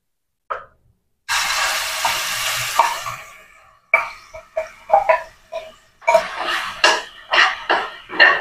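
Cloves and vegetables fry in hot oil in a home kitchen while Arai keerai, potato and brinjal kulambu are prepared, giving a steady close sizzle with intermittent stirring scrapes and clatters.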